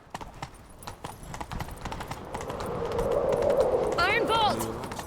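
A horse gallops in The Witcher 3, rapid clip-clop hoofbeats building under raised voices as the riders chase someone, with the speech continuing over the hooves.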